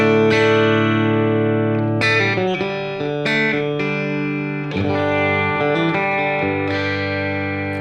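Electric guitar with EQ engaged, bright sustained chords and single notes ringing with slight effects shimmer, loud and close, several strummed changes over eight seconds, no voice.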